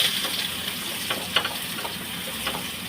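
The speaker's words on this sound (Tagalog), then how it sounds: "Dito sa pinagprituhan natin ng tilapia, igisa na natin itong bawang." Garlic and onion sizzle steadily in hot oil left from frying tilapia, a continuous close crackle with a few brief louder spits and stirring scrapes.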